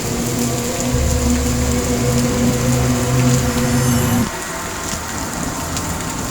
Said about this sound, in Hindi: ये बारिश तो थमने का नाम ही नहीं ले रही